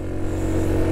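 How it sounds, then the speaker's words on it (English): A Yamaha Vino 125 scooter held at wide open throttle gives a brief, steady, fairly loud engine drone with a constant low buzz and no voices. "Okay, so this is acceleration. Wide open throttle."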